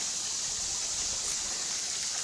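Garden pond waterfall, a steady even rush of falling water heard up close, constant and unbroken with no voices.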